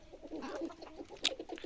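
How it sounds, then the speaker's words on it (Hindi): Desi Kadaknath hens on a natural poultry farm clucking softly in short, irregular bursts, close by, with one sharper squawk near the end. "इस प्रकार से अभी हमारी देसी मुर्गी है।"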